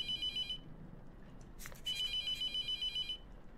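A telephone rings in The Mortuary Assistant video game with two bursts of clear electronic trilling. A short clattering noise falls between them, and the background is otherwise quiet.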